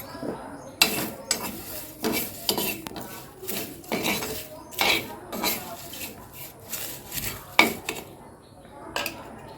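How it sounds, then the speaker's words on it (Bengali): A spoon stirs sugar into a homemade hair-blackening mixture in a small vessel, giving repeated metallic clinks and scrapes in quick, uneven bursts, close and clear, with no voices. "এটা আমি ভালো করে এটাকে নেড়ে নাড়বো এখন"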